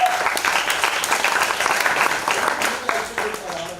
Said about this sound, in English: So a lot of applause to you.